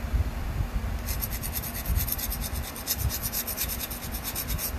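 A knife blade tip being sanded with sandpaper: a steady, close, dry rasping scrape that carries through the clip, with a faster, brighter stroking pattern joining in after the first second.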